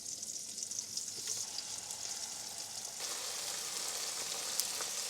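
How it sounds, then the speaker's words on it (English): Steady sizzling and crackling of beef and vegetarian patties frying in hot oil in a pan, continuous and fairly close, with no voices. "And then we'll start frying them."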